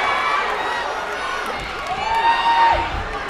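A packed arena crowd roars and cheers during a live MMA bout, a dense, steady wash of shouting and whooping that swells in the middle and stays loud throughout.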